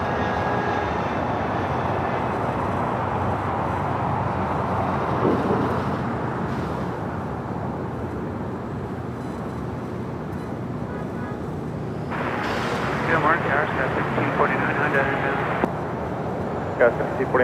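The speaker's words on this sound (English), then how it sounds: "China Airlines Cargo, 777 freighter." A China Airlines Cargo Boeing 777 freighter landing at LAX gives a loud, steady jet engine roar with broadband rumble. It builds into a harsher, brighter burst near the end, and a voice talks over it.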